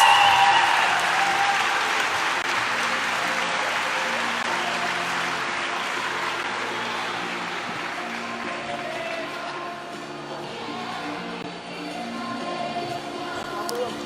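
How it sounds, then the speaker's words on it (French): Audience applauding after a Franco-Italian student ensemble performs, sustained dense clapping that slowly fades and then swells again near the end, with scattered voices. "on les applaudit très très fort"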